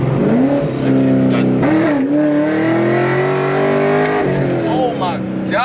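A cammed Camaro SS with long-tube headers and true dual straight pipes roars under hard acceleration, its loud, raspy engine tone climbing steadily through the gear. It is close and continuous, dipping briefly at shifts.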